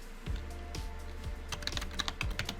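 Computer keyboard typing into a Canva design search box, a quick run of close, soft key taps with low thumps, steady and unaccompanied by talk.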